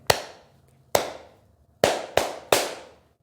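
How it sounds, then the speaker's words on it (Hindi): Five sharp, loud hand claps done as a fitness exercise, close and dry, the first two spaced apart and the last three coming in quicker succession, with no talking. "इसलिए ताली बजाएं।"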